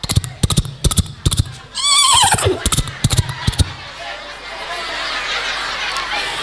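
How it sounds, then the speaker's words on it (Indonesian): A horse neigh sound effect plays during a staged Maulid story, a loud descending whinny following rhythmic clip-clop hoofbeats, with chatter and a crowd murmur behind it. "Datang kakeknya Nabi, Abdul Muthalib, naik kuda."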